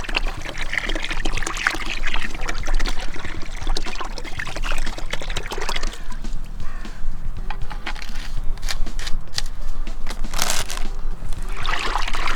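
Water poured from a height into a bucket while mixing roach groundbait with a roach flavour additive, a steady splashing pour running the whole time with a few fuller gushes.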